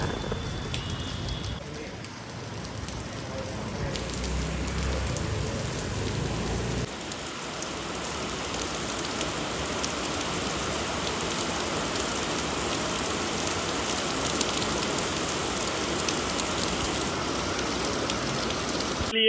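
Heavy rain falls steadily and continuously, a dense close hiss of drops on surfaces with no one speaking.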